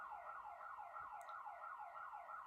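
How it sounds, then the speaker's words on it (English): A car alarm sounds outside at a distance: a faint, steady run of quick descending electronic sweeps that repeat without a break. "that's someone's car alarm"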